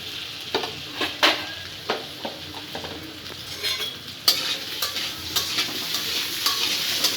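Cauliflower and potato pieces frying in oil in a pan, crackling and sizzling steadily with repeated sharp scrapes and clacks of a stirring utensil, close up and without speech.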